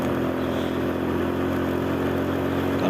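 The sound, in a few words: motorcycle riding past on road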